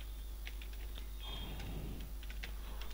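Typing on a computer keyboard, a quick patter of light key clicks, close and fairly quiet over a steady low hum, with no talking.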